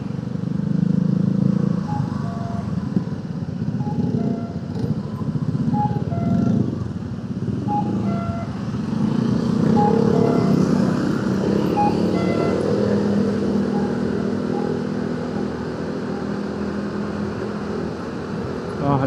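Dense stop-and-go traffic in Jakarta heard from a moving motorcycle: a steady engine rumble with scattered short horn toots and other vehicles close by, staying loud throughout.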